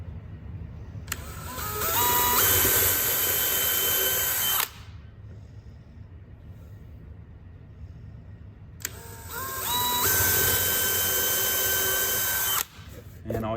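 A power drill bores into wood for a planter build in two long, loud bursts, each winding up in pitch, running steadily for a few seconds, then cutting off, with a quiet pause between.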